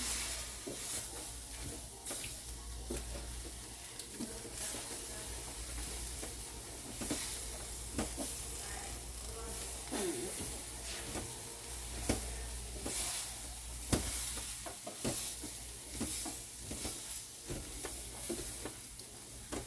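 Egg roll mix being stirred in a hot pan, with a steady sizzle and hiss underneath and repeated scraping clicks of the utensil at an irregular rhythm, close by and moderately quiet.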